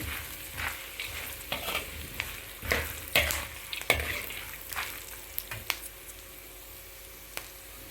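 Turmeric frying and being stirred in hot oil in a pan for a tempering of flattened rice and puffed rice; continuous crackling sizzle with repeated sharp scraping stirs and clicks, close and clear.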